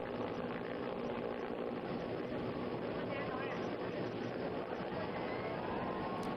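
An Air Force rescue helicopter works over the Tawi River near an under-construction dam in Jammu, its steady engine drone running continuously beneath a voice.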